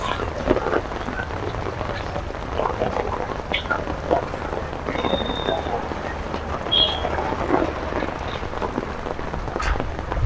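Heavy rain falling during a flood near the Surma River in Sylhet, a constant close rush of drops with a few faint chirps and brief voices in the background.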